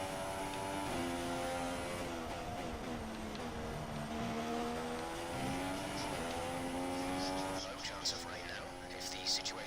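Formula One race cars in the F1 2016 video game at the Australian Grand Prix whine and rise and fall in pitch through gear changes, several engines layered, steady and moderately loud with faint clicks near the end.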